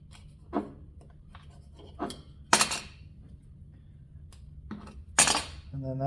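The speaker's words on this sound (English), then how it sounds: "I could cut through the rubber with a knife real easy" A knife cutting through the rubber of a rear main seal on a Nissan 300ZX engine, a few separate scraping and slicing strokes with two louder rasping cuts, close up, between quiet pauses.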